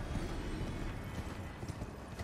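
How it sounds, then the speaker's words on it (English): Horse hooves galloping in the Elden Ring video game, a steady rapid clip-clop rhythm that is continuous and fairly quiet, with no talk. "Get on my horse. And keep going until my next grace site."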